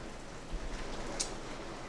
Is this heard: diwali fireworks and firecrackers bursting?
no